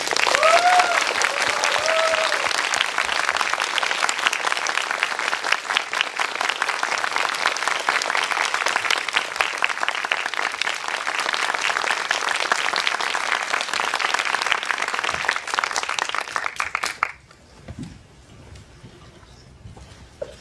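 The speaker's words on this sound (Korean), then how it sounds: "여러분 영화를 재미있게 본 만큼 큰 박수로 맞이해 주세요." A theater audience applauds loudly to welcome film director Lee Sang-il after a screening of the film Kokuho, a dense, continuous clapping that lasts about seventeen seconds before cutting off to quiet room noise.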